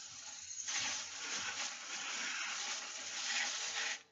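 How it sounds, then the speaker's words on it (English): Water pours steadily onto a compost pile of raked dead leaves and corn cob husks, a continuous close gush lasting a few seconds before stopping abruptly. "Put some more water."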